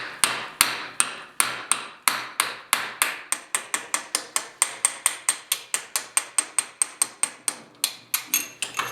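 Metal punch struck repeatedly with a hammer to drive out a bearing on an old Rockwell table saw, a long run of sharp close metallic blows that starts spaced and quickens into a fast even rhythm.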